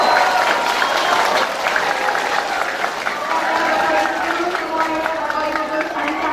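Loud, sustained applause and cheering from a large crowd at a school Teachers' Day ceremony in Indonesia, dense clapping continuing throughout with a voice faintly audible underneath.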